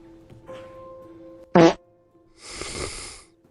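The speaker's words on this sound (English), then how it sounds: "We definitely were not sniffing her fart" A short, loud, buzzy fart sound effect in the 007 First Light video game, a single burst standing out from quieter game ambience and a hissing noise that follows.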